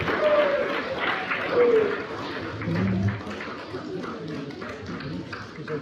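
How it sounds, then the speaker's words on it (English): An audience at a junior high school space talk claps in a short round of applause, a soft, uneven patter of many hands mixed with crowd murmur and voices. "let's have a quick round of applause"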